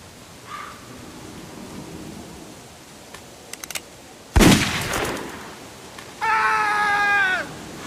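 A single loud gunshot cracks out midway through a tense scene in The Walking Dead Telltale Definitive Series, Season 1 Episode 2, its sharp report sitting over a quiet ambient bed and followed shortly by a sustained tonal cry.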